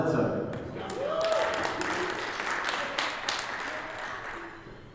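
An audience at an education board session claps steadily after a speaker is introduced, with a whoop rising early on; the applause slowly thins out while a voice talks over it.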